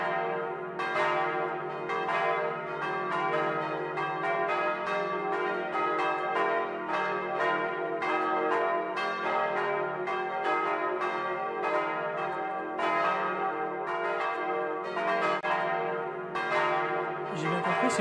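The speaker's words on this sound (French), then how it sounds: "Celle-ci, c'est des cloches en Haute-Saône" Church bells pealing in Haute-Saône, France, a dense continuous ringing of several bells with overlapping strikes and long sustained tones, loud and steady throughout with no voices.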